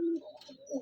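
A pigeon at a pigeon farm in Rajshahi gives a short, soft coo, low and close, with no one talking.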